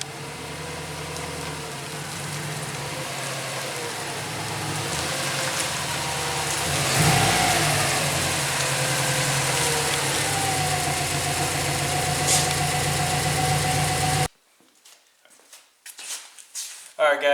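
Subaru car engine running steadily with a loud mid-range drone, swelling briefly as it revs, then cutting off abruptly near the end, followed by scattered faint knocks and shuffling.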